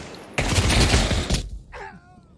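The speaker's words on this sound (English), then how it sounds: "damn, I shot his helmet." Loud burst of gunfire in the WW2 update of Pavlov VR, a round striking an enemy's helmet, sustained crackling for about a second before dropping to quieter game sounds.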